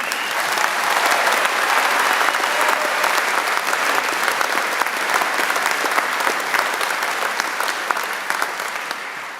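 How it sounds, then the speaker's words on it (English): An audience applauds at a university arts, design and media graduation ceremony, loud continuous clapping that stays dense and even before easing slightly at the end. "a round of applause to everybody here"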